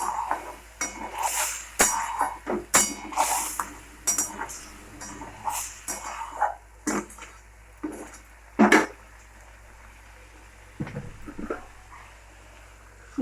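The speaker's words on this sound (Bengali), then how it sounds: "এই মশলাটাকে আমরা ভালো করে কষিয়ে নেবো।" Spice mix being fried with raw potatoes in a pan, metal utensils clanking and scraping against the pan in irregular bursts, with no voices.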